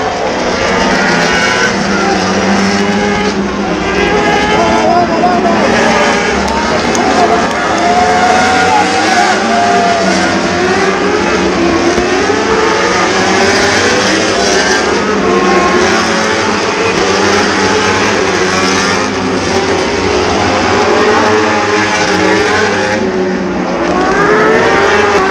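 Loud, continuous high-pitched engine whine of Superbike racing motorcycles, including Ducati and BMW, streaming past at a 2023 race in Italy, with shifting pitch sweeps and a constant roar throughout.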